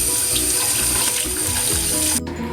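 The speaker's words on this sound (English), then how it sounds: "we're going to run it under water" Tap water runs steadily into a sink as an exfoliating sponge is held under the stream, a close, loud, continuous splashing gush with shifting gurgles that drops off sharply near the end, with no talking.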